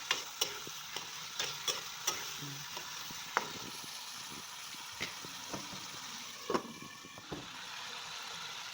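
A spoon stirs chicken liver and gizzard adobo with potatoes in a pan, giving a soft continuous sizzle broken by scattered light scrapes and clinks against the metal, fairly quiet and with no voice over it.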